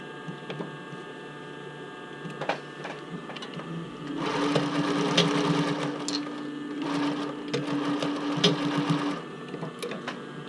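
Close by, a sewing machine stitches a bra band in one steady whirring run of about five seconds, with quieter handling clicks and rustles before and after.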